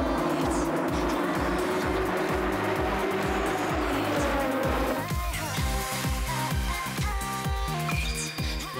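A tuned Nissan Fairlady Z 30Z sports car driven hard, its loud engine note steady and dense throughout, with tire noise and a rhythmic pulsing texture layered over it and no pauses.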